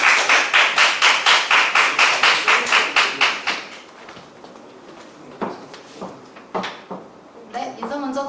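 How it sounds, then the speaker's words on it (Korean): A seminar audience claps in a quick burst of roughly sixteen even claps for a speaker's introduction, loud and close, then fades into scattered thumps, shuffling and faint talk. "박수 부탁드립니다."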